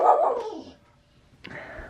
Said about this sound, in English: My dog says hello.